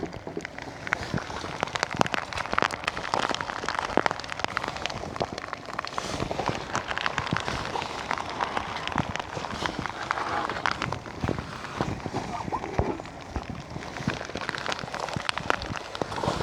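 Dense, continuous rain patter hits a surface, with irregular louder drops and splashes throughout and no pause.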